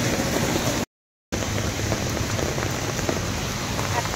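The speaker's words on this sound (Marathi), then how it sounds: "इतका जास्त पाऊस आहे ना, सकाळपासूनच पडतोय" Heavy rain pours down in a continuous dense hiss of drops hitting surfaces, loud and steady, broken by a brief silent gap near the start.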